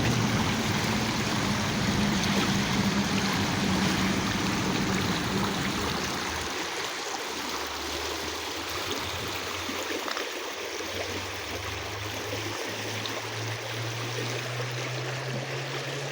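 River water rushing over rocks along the Lewis River on a hike, a constant broadband flowing roar, close and steady, with a low hum entering partway through.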